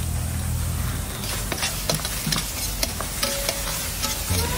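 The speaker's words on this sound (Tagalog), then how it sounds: "igisa-gisa lang po natin na maigi, at may kasama na rin isang sachet ng oyster sauce" Beef cubes and oyster sauce sizzle and fry in a pan, with a continuous hiss and intermittent scraping stir strokes from a utensil.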